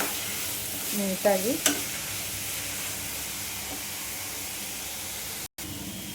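Ghee goes into carrot halwa sizzling in a pan, giving a steady frying hiss broken by stirring scrapes near the start, while a voice speaks briefly.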